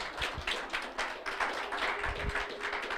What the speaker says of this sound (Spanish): denle un aplauso a este voluntario aquí